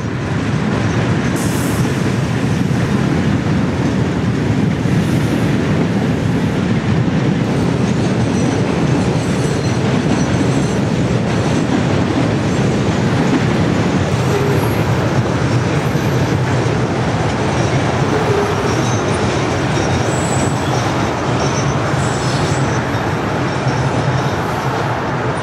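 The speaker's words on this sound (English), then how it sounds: "This is A772, a local that runs from Waycross, Georgia to Fernandina Beach every day." CSX local freight train A772, running daily between Waycross, Georgia and Fernandina Beach, rolls steadily past in Jacksonville, a loud, continuous rumble of railcars with rhythmic wheel clatter and occasional squeal, no voices.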